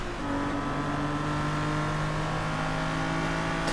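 A racing car engine in the video game Forza Motorsport 3, damaged axle, drones steadily at high revs, a constant mechanical whine with a faint rattling undertone, loud and close throughout.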